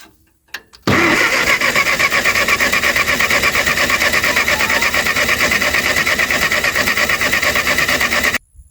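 An old classic tractor engine that has sat unused for years, cranking with the choke on: a steady, loud, continuous grinding churn that runs for about seven and a half seconds after a brief click, then cuts off abruptly.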